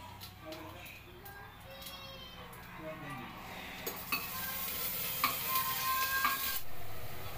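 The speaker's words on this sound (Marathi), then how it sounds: "खडे मसाले घालून तमालपत्र, दालचिनी, लवंग, जिरे, चक्रीफूल घालून आपण तेलामध्ये तुपामध्ये परतून घेऊया" Whole spices (bay leaf, cinnamon, cloves, cumin and star anise) fry in hot oil and ghee for a chicken rice dish, with a soft sizzle and clinks of stirring that grow louder and busier toward the end.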